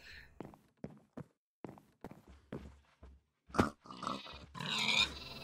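A black pig in the Minecraft modpack Feed The City rides a conveyor and gives repeated short grunts with soft thumping steps, then louder squeals toward the end.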